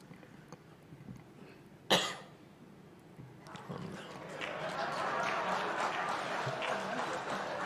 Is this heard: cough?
yes